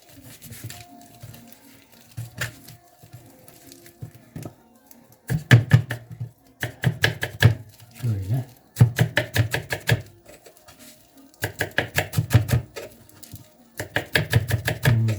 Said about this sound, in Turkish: Önce maydanımızı şöyle bir doğrayalım.